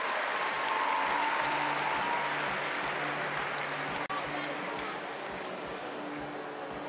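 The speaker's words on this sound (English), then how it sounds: "Applause from teammates on the sidelines." Teammates on the sidelines of a women's all-around gymnastics competition at the 2019 Napoli Universiade keep up steady, dense applause for several seconds, while a commentator talks over it.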